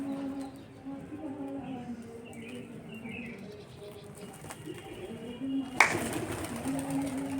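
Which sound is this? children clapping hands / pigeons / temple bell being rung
pigeons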